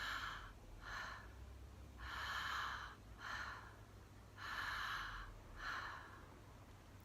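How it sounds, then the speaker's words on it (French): Connected breathing in Transformational Breath practice: soft, airy breaths with long inhales and short relaxed exhales that follow each other without pause, three full cycles, close and quiet. "un grand inspire et une expiration courte et détendue"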